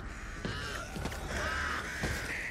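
Crows in a zombie video game caw in several harsh, repeated calls, loud and close over a low ambient background, and no one speaks.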